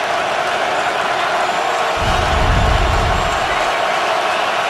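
A stadium crowd at a Jets vs Ravens NFL game (2011) swells into a loud rising roar ahead of a third-and-10 play, layered over constant broadband crowd noise with a deeper surge building midway.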